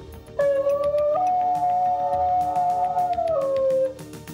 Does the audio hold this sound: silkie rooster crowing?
no